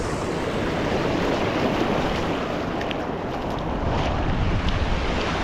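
Water pours over the waterfall at the Elliot Falls campsite in Queensland as a constant, broadband rushing roar, steady and fairly loud with no voices.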